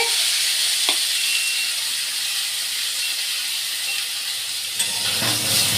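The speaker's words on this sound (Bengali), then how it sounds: "এই যে আলু বেগুন আমি ভাজছি" Potato and eggplant pieces, with fried lentil dumplings, frying in oil in a pan: a continuous hissing sizzle at a steady level, with a few faint clicks and clinks.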